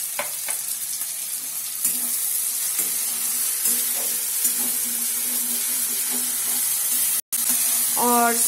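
Onion paste frying in oil with garlic-ginger paste sizzles continuously at moderate loudness, broken by repeated soft tapping and stirring knocks and a brief dropout before a final louder scrape.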